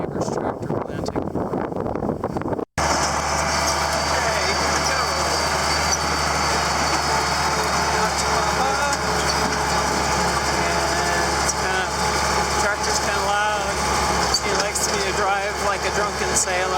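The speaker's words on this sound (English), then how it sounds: "That's the neighbor's tractor planting." A neighbor's farm tractor drones steadily at a distance while planting corn and soybean fields, a continuous engine rumble mixed with wind buffeting the microphone, and a person talks over it.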